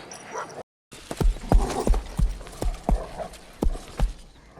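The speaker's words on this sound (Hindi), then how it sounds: "इस आवाज को या फिर साइलेंस को ब्रेक करता है कुत्तों की और घोड़ों के टापों की आवाज।" Horse hooves clip-clop in a steady rhythm alongside dogs barking and whimpering, part of the background score for the film RRR, moderately loud after a brief silent gap.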